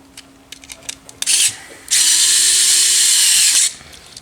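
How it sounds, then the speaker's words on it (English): Electric screwdriver or power drill whirring loudly as it drives a screw, a short burst followed by a longer steady run that cuts off, with faint clicks before and no talking. "there's no reason in the world why you couldn't come through and use a drill like that"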